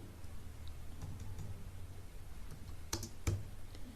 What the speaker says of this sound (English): And typing here the name Athira C.